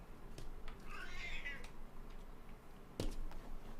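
A cat gives one short, close meow, with a sharp thump right after.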